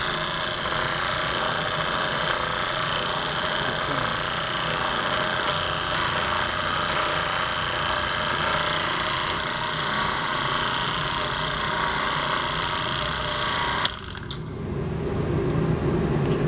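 A small homemade hydraulic press runs with a steady, continuous motor hum and drone that holds evenly, then cuts off abruptly near the end, leaving a brief quieter gap before the noise resumes.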